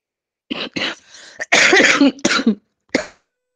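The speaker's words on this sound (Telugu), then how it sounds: "ఇది ఇప్పుడు మీరు దగ్గుతున్నటువంటిది వేడి వల్ల వచ్చినది" A series of harsh, close coughs in quick bursts, with a couple of short pauses between fits and one last cough after a brief gap.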